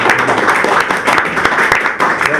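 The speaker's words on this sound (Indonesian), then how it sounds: "mungkin boleh tepuk tangan ya untuk sesi" A podcast audience gives a short round of applause, a close, busy patter of many hands clapping for just over two seconds at fairly even loudness.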